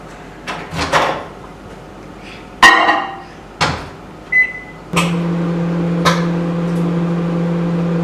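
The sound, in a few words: microwave oven running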